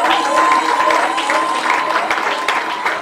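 A crowd applauds continuously for a few seconds, loud and close, with scattered cheers mixed in.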